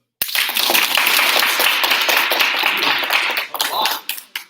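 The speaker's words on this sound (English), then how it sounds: "when I put my hand on the person who's the most popular, I want you to clap and cheer" Students in a taekwondo university class clap and cheer together in a sustained, dense burst of applause with shouting, loud and close, tapering off into scattered claps at the end.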